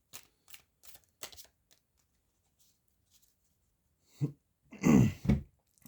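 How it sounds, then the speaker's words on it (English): Tarot cards riffled and shuffled by hand, a few soft quick bursts early on, then a louder, fuller run of shuffling near the end, close and alone. "Just put all the cards back in. Quick shuffle."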